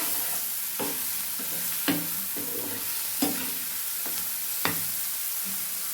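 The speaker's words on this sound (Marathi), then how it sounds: "हे छान हलवून घ्यायचे मस्त" A fried savory mixture seasoned with salt is stirred in a pan, with a soft steady sizzle under a few sharp scrapes and clacks of the spoon against the pan at irregular intervals, close by and without talking.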